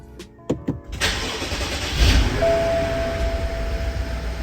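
A crashed BMW 550i cranks with a few quick starter whirs, then catches and fires up into a loud, rough idle that holds steady, heard up close.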